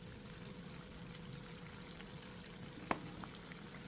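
Vietnamese spring rolls (nem) crackling in hot oil during a second deep-fry, a steady low sizzle running throughout with one sharp pop near the end.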